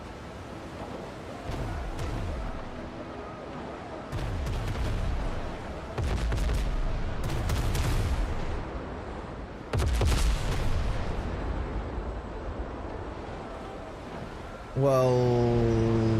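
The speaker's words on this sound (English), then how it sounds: "I think 2 is your lower gun deck with your lighter guns, and then 1 is your heavy guns on the top of the ship" Heavy ship cannons fire broadsides in a naval battle game, heavy guns on the top deck and lighter guns on the lower deck, booming in repeated bursts over sea wash, with talk throughout.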